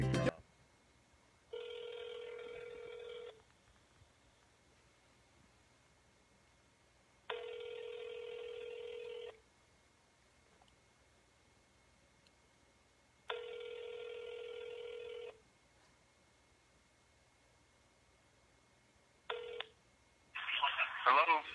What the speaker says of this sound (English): I'm going to return this phone call today